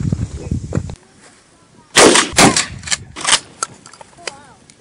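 A Stevens Model 320 pump-action shotgun fires outdoors at clay targets, with loud sharp blasts in quick succession followed by a fading report, after a short stretch of talk.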